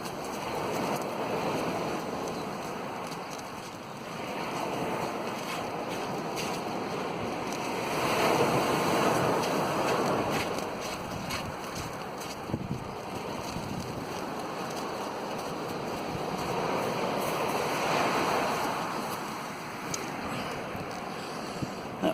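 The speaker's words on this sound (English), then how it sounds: "That wind certainly is gusting" Gusting wind buffets the microphone on a sea beach at North Beach, Great Yarmouth, Norfolk, with surf rolling beneath; loud, steady roar swelling in stronger gusts, no talking.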